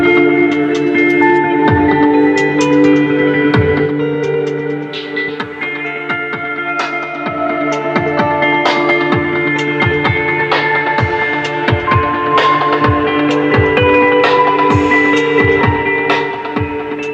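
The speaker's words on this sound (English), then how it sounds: "What you just heard was the 450-watt 10-speaker premium audio system found in the" Music plays through the 450-watt, 10-speaker premium audio system of a 2017 Honda Civic Touring sedan, steady and full with a busy percussive beat and sustained tones, heard alone without talk.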